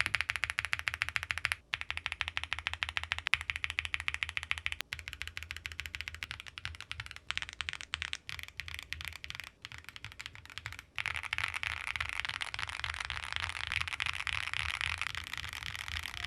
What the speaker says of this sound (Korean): 키 하나하나 눌러서 타건 소리 다시 한번 들어볼게요.